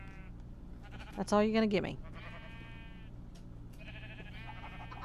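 A sheep in a Minecraft-style video game gives one loud, wavering bleat close by, between stretches of someone talking over quiet game sounds.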